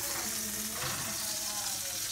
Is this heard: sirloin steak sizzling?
yes